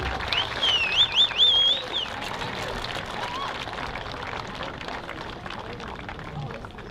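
An audience at a high school graduation ceremony claps in a broad, steady wash. Whistles and a few cheers rise early on, and the applause then settles into a continuous crowd patter.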